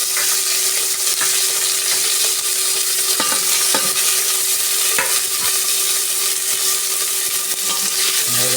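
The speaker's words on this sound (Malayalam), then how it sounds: "ഇളക്കി കൊടുക്കാം." Shallots, curry leaves, green chilli and garlic sizzle in a pan while being stirred, with a steady close frying hiss and occasional scraping clinks of the spoon against the pan, and no talking.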